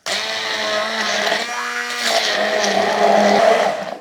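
A blender whirs loud and close, blending a risotto alla Norma sauce with aubergine until smooth, its motor tone steady and shifting slightly in pitch as the mixture thins out.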